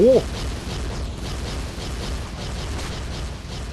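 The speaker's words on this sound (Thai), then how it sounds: "เคลี้ยงระเบิดและยิงระเบิดตูมตามแล้วระเบิดเป็นไฟ" Skill explosions and bomb blasts from the mobile game Marvel Future Fight boom in a dense, continuous roar, with a sharp burst right at the start and steady loud rumble throughout.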